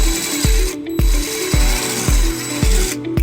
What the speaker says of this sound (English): And then we'll drill the second hole.